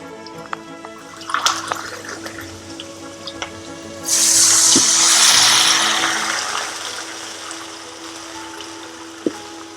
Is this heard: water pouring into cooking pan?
yes